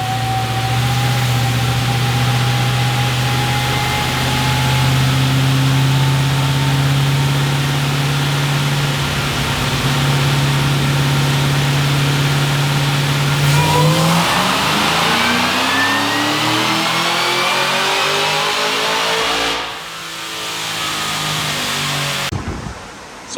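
A Cadillac CTS-V with a cam upgrade revs hard on a dyno: a steady loud engine drone climbs, peaks, then the revs drop away with a falling sweep and the engine settles to a lower rumble before cutting off.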